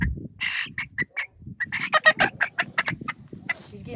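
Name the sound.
chicken hen clucking in cage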